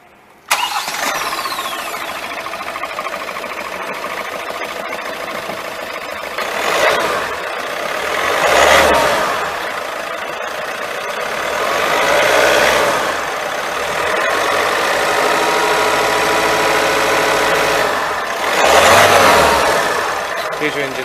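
A 2017 Hyundai Accent sedan's engine cranks and catches, then settles into a steady idle, with recurring swells of revving, loud and close with no talking.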